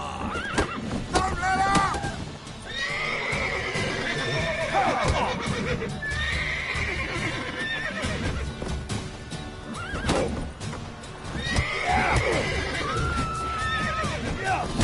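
Horses in The Witcher 3 neigh and whinny repeatedly, with clip-clopping hooves, over a busy game soundscape while characters talk throughout.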